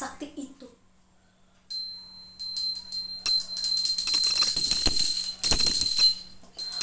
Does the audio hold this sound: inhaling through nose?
no